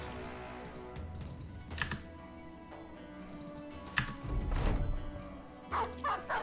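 A dog barks a few times in the Battle Brothers game, short sharp yaps near the end, mixed with the steady clatter of computer keyboard typing.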